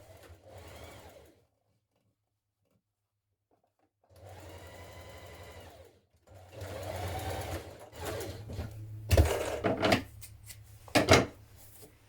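Sewing machine stitching around the pocket pieces of a garment, in three separate runs of steady whirring, the first short and the later ones longer with louder bursts near the end. No talking.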